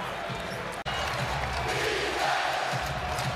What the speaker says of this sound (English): this Target Center crowd getting loud, calling for some defense